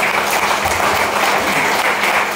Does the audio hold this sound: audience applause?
yes